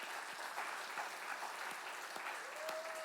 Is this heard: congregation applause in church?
yes